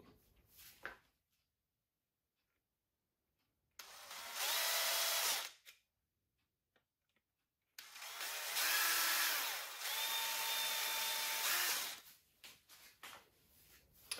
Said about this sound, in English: take my drill and mark 4 holes where I want to drill through the Pro clip